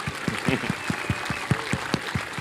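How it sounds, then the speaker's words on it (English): An audience at a talk on rockets and Starlink claps together in a quick, regular rhythm, with a steady crowd murmur beneath the claps. "let's just have a massive round of applause"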